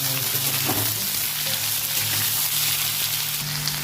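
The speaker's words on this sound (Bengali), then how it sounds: "একটু হালকা হালকা ভেজে নিচ্ছি।" Potato, onion and tomato frying lightly in oil in a kadai make a dense, constant sizzle, close and loud, over a faint low hum, with no voices.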